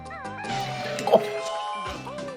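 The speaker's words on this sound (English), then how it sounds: "Cats, knock it the fuck off." Cats meow repeatedly nearby indoors, several rising-and-falling cries with a brief knock or clatter midway, and a voice is faintly present in the background.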